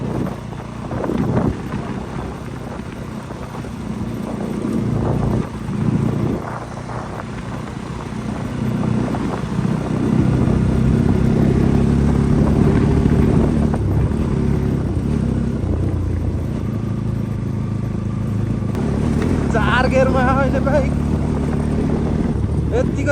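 A motorcycle rides in fourth gear along a dusty road in Upper Mustang, its engine drone steady and rising under heavy wind buffeting, while people talk over it.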